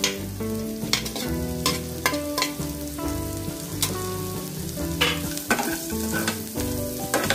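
Green chilies, curry leaves and coriander sizzle and crackle in hot oil for a green dhal paniyaram batter, a steady close frying hiss with bright pops and stirring scrapes throughout, no talking.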